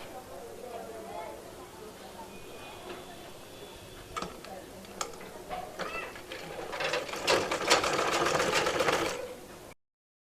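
A sewing machine stitches a baby frock in short mechanical bursts, then runs longer and louder near the end before stopping abruptly, with someone talking over it.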